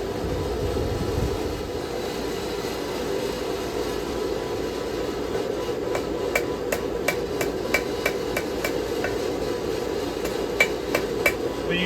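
Heated steel is hammered by hand while forging a knife: a run of sharp, evenly spaced metallic strikes that starts partway through, over a constant droning background noise.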